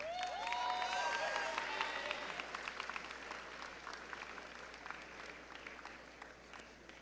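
Audience claps for students at a high school honors awards assembly, a broad wash of applause that starts full and gradually thins, with faint voices briefly audible over it near the start.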